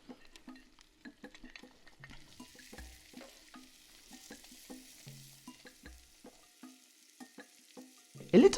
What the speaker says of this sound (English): Now let's add the mushrooms into the pan and have them slightly